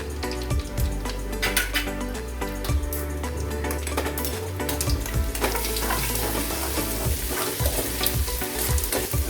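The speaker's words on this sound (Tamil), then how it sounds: "கடுகு நல்லா பொரியட்டும்." Mustard seeds pop and splutter in hot oil with curry leaves, urad dal and dried chillies while prawn kulambu is cooked, making a steady dense sizzle with scattered sharp crackles and occasional stirring.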